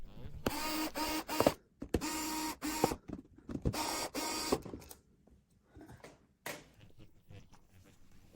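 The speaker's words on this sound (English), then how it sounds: "I turn the motor box upside down and loosen the screws at all four corners" A power driver whirs in short bursts while a T10 Torx bit loosens screws at the corners of a motor box, with a few clicks and handling taps between runs.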